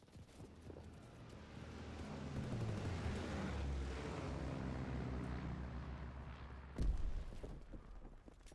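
An enemy fighter plane in the Call of Duty: WWII video game roars overhead, its engine drone swelling to a sustained loud pass with a sharp booming impact near the end.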